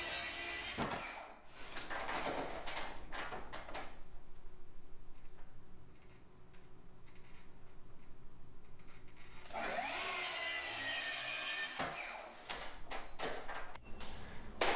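A power saw cuts wood for coffered ceiling beams up on scaffolding, with a loud burst of cutting at the start and another several seconds later, separated by quieter background hum.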